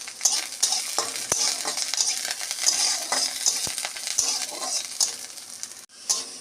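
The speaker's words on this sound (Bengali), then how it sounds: "আদা রসুন ভাজা হয়ে গেছে" Ginger and garlic frying in oil in a karahi pan give off a continuous bright sizzle, with a few sharp metallic scrapes of stirring and a brief drop in noise near the end.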